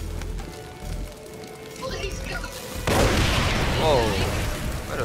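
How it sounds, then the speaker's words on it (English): An explosion in the shooter game Far Cry New Dawn bursts loudly partway through after a quieter stretch, then gives way to a roaring, crackling rumble that fades slowly. "Nice explosion"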